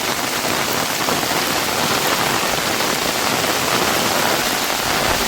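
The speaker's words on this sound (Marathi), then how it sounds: "काय पाऊस पडतोय." Heavy monsoon rain pours steadily in the Konkan hills, a dense, loud, unbroken hiss of drops hitting surfaces with no voices.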